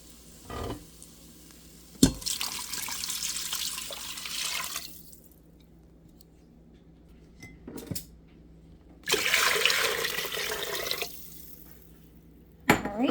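Water pours into a pot in two bursts, a steady splashing rush each lasting a few seconds, with a few clinks and quiet gaps between.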